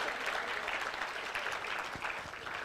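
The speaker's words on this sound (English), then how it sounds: "One more round of applause, please," An audience at a ceremony honouring matric top achievers gives Mandisa and Tulani a round of applause, a steady, full wash of clapping from many people, heard alone without voices.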